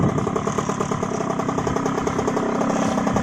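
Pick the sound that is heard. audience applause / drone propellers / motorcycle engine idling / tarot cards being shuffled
motorcycle engine idling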